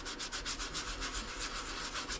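Steady back-and-forth scratching of sandpaper on a terrazzo-style resin tray with embedded glass pieces, rhythmic quick strokes, close and fairly quiet, with no voices.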